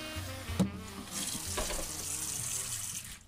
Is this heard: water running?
yes